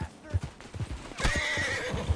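Horse in Red Dead Redemption II neighing loudly during a chase, a whinny over thumping hoofbeats, with faint voices briefly underneath.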